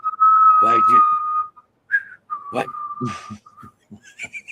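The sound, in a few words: whistled imitation of a Clint Eastwood western theme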